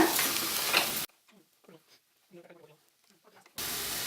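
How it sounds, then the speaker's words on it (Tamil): Fried potatoes are stirred in a pot for potato biryani, a loud hissing scrape at the start and end, with a quieter stretch of faint clinks and soft movement between. "இது சேர்த்து இப்படி கிண்டிடுங்க"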